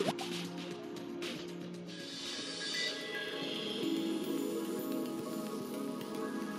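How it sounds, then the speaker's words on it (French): Manganese dioxide is added drop by drop to hydrogen peroxide in a chemistry demonstration, giving soft, irregular dripping over a steady liquid hiss, with no speech. "Maintenant, on ajoute goutte à goutte au peroxyde d'hydrogène du dioxyde de manganèse."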